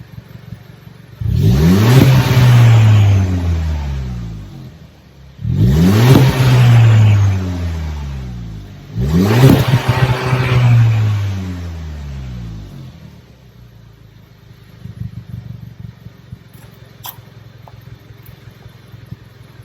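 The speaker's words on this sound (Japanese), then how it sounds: "それではちょっと吹かしてみます。" Three hard revs from an Audi A3 sedan fitted with a Marvin quad-exit aftermarket muffler, each climbing loudly toward the limiter in park and falling back, with idle rumble between bursts.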